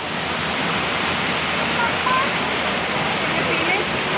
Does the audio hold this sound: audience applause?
no